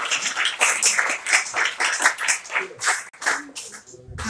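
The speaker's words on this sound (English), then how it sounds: "Clap your hands." An audience at Innswood High School claps during a storytelling festival performance, bursts of handclaps pulsing in an uneven rhythm and mixed with voices, fairly close and lively.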